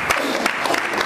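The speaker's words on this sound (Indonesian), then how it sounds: "Kita beri tepuk tangan." Church congregation applauding together, a dense wash of clapping with a few sharper claps standing out, steady and fairly close for about a second.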